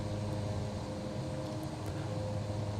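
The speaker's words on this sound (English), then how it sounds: "You will even hear the sound will also reduce for the propellers" Cessna 408 SkyCourier twin turboprops in Microsoft Flight Simulator 2024, a steady droning propeller hum with a fixed tonal whine, constant and fairly faint, with no voices.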